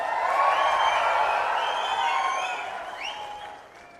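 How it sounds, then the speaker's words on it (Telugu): An audience at a political meeting held by Chief Minister Chandrababu Naidu in Siddantham bursts into dense, loud applause with some cheering, steady at first and then tapering off. "ఆయన మాట్లాడుతూ ఉంటే బ్రహ్మాండంగా చప్పట్లు కొట్టారు"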